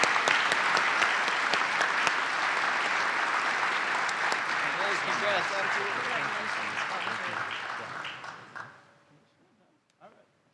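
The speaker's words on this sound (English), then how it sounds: "We just want to give them one more round of applause" A large audience at a regional state-of-the-region event applauds award recipients, a mayor and a colleague, with steady dense clapping that carries on for several seconds before tapering off, with some voices mixed in.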